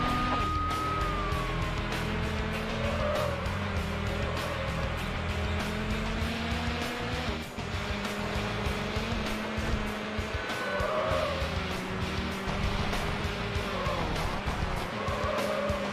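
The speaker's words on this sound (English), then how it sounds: "Vehicle is a McLaren F1." A McLaren F1 races through a police pursuit in a video game, its engine droning loud and steady with brief tire squeals and a wailing siren, while a voice talks over it.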